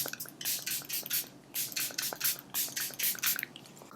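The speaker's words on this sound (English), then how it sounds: "I'm going to use the ColourPop Pretty Fresh setting spray" ColourPop Pretty Fresh setting spray misted onto a face in a series of short, close hissing bursts with brief pauses between them, no talking.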